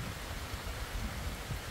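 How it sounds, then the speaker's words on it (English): Heavy rain during Typhoon Kristine in the Philippines, a dense, continuous low roar of downpour with rumbling wind, brief and without voices. "that it started raining again"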